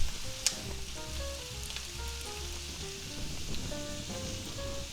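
Chopped ham and cabbage fry in a pan, a soft, steady sizzle with scattered pops and crackles, close and alone.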